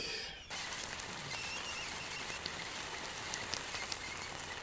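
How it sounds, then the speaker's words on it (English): Steady rain patters on a tent at night during a late-fall canoe trip, a dense continuous hiss with scattered louder drops and no voices. "And it's now raining."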